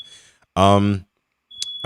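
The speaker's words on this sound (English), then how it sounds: "the smoke detector's going off in my house" Smoke alarm going off in a house, a short high-pitched electronic beep heard briefly near the end between bursts of nearby male speech.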